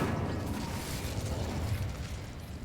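An Incendio fire spell cast in a video game erupts as a dense, rushing, fiery burst, loud and close from the start and slowly thinning over under three seconds.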